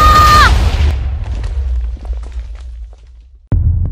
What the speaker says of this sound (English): The explosions are close.